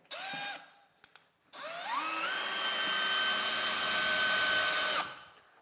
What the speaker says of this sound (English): I'm gonna go ahead and screw them in